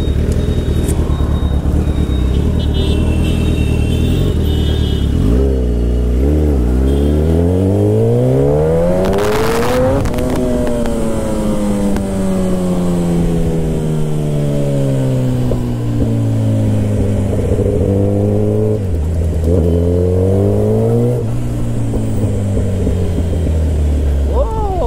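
A Kawasaki ZX-10R 1000cc sport motorcycle engine revs loud and close, rising and falling in pitch through repeated throttle blips and sustained accelerations, with a sharp high burst midway and a steady engine drone throughout.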